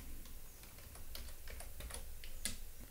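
Python code being typed on a computer keyboard: a quick, irregular run of light key clicks, close and fairly quiet, with no voice.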